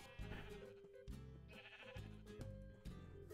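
Minecraft sheep give a series of short bleats in an irregular rhythm, layered over ongoing in-game music at a steady moderate level, with no voices.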